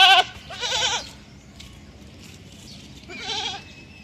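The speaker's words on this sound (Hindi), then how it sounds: "ये टीडी नस्ल की बकरी है" A TD breed goat bleats close by, giving two wavering cries followed by a third after a quiet pause, set against soft background noise.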